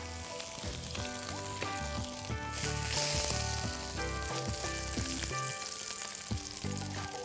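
A fish fillet sautéing in a little oil in a pan, seasoned with salt and pepper, giving a steady loud sizzle throughout with a brighter surge partway, while music plays prominently over it.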